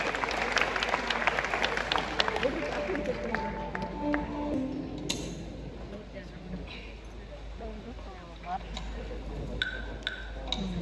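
A crowd claps at a gathering, a continuous spread of hand claps under a voice speaking over it, with some sharp ticks and clatters mixed in.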